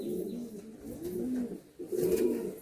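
Andhra pigeons coo in a close, steady series of low, rolling calls, with several overlapping phrases and a brief pause near the end.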